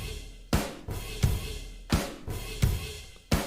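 A drum kit in Logic layered with an orchestral bass drum and cymbals, struck in five heavy, evenly spaced hits, each a booming low thud with a bright cymbal wash that sustains between strikes, close and with no voices.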